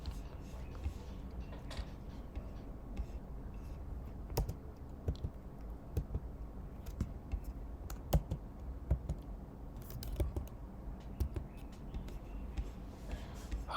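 Typing on a computer keyboard during a web domain search, a steady run of soft, close key clicks with occasional louder taps over a low room hum.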